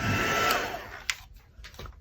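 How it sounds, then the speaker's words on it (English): Hair dryer blowing air across a handmade junk journal page, a steady loud whoosh for about a second before it cuts off, leaving quieter handling rustles. "Now what I might do is take my dryer"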